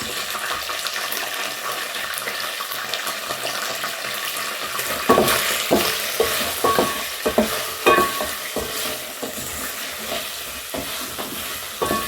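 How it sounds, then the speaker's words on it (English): Pilau sizzles as it fries in a little oil in a pot while a utensil scrapes and stirs in irregular bursts, with a faint tap of water in the background. "Just frying it a little, not too much, not too much oil either."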